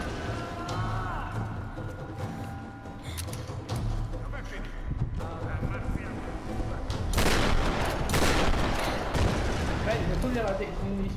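Enemy gunfire in Tomb Raider Definitive Edition on PS4, a run of bursts and sharp cracks that builds louder toward the end, mixed with game effects and someone talking over it.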